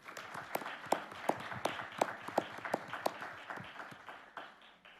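Audience at an international arbitration panel in Madrid claps in a thin, evenly paced rhythm of distinct claps, moderately close, that fades out toward the end.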